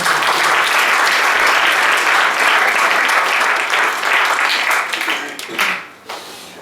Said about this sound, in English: big round of applause for our Kartal and Mridanga players for the Kirtan.